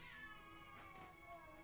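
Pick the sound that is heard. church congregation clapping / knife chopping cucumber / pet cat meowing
pet cat meowing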